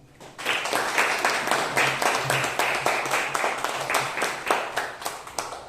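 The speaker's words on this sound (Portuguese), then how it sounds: "Muito obrigado e agradecendo com a salva de palmas." A congregation at a Tuesday Mass in ordinary time bursts into applause, dense and steady hand clapping filling the church at moderate loudness for several seconds, with a low hum of voices faintly underneath.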